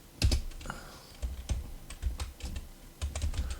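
Typing a sudo apt search command on a computer keyboard running Linux Mint, a series of close, crisp key clicks in uneven bursts with short pauses.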